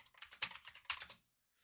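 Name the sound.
clacking computer keyboard typing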